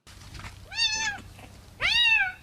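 A cat meows twice, clear and fairly close, with rising and falling cries, while its owner brings it to a veterinary clinic for vaccination. Faint low background hum fills the space between the cries.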